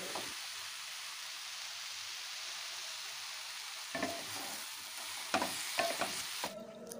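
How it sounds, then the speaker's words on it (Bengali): Grated carrots fry in a pan for gajar ka halwa, a soft continuous sizzle with several sharper scraping stirs near the end, quiet and close, with no talking. "গাজরটা দেখো এখন কত সুন্দর ভাজা হয়ে গেছে, তবে আরও কিছুক্ষণ গাজরটাকে আমার ভাজতে লাগবে"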